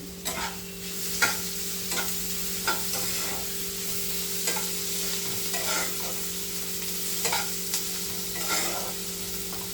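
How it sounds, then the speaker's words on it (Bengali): Chicken curry is stirred in a pan over a steady sizzle, with a spoon scraping the metal in regular strokes about a second apart, close and fairly quiet, with a faint hum beneath and no voices. "আমি আরেকবার নেড়ে নিলাম"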